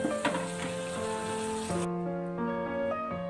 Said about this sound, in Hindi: फिर इसको ऑयल सेपरेट होने तक भून लेंगे